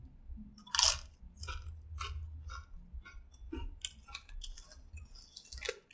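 Flamin' Hot Cool Ranch Doritos tortilla chips are bitten and chewed close up, giving a series of sharp, crisp crunches in an irregular rhythm against a quiet background.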